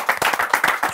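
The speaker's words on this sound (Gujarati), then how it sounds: "એક વખત જોરદાર તાળીઓ હિતેન કુમાર માટે" An audience bursts into a short, dense round of clapping for actor Hiten Kumar, rapid hand claps close and loud with a crowd's sharp rhythmic beats.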